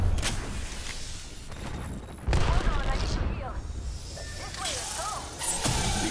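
Gunfire in Apex Legends, with bursts of shots, whooshes and mechanical clatter in a busy game mix, loud jolts near the middle and end, and game voices speaking over it.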